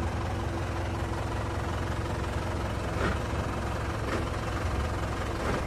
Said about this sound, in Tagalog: i-start ko itong makina mga boss, kung makikita nyo, tapos ia-atras ko yan